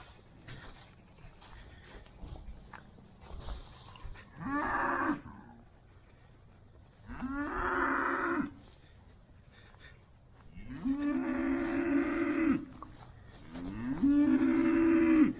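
Cattle on a farm along a countryside walk in Derbyshire, giving four long, loud moos at regular intervals, separated by quieter outdoor background sounds.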